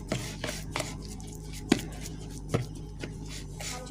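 Nan khatai dough of flour being mixed and pressed together by hand: soft, close, irregular pats and squishes, several distinct presses over a quiet background.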